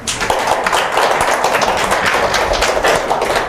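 A seated crowd of guests claps loudly at a Korean fire-safety licensing exam celebration gathering, the dense applause steady and close for a few seconds without speech.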